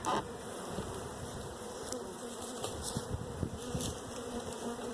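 A steady, close drone of many honey bees buzzing continuously in a hive with frames of capped brood and nurse bees, with a few soft knocks underneath and no talking.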